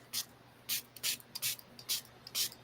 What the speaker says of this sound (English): So I like the idea of doing the spray bottle.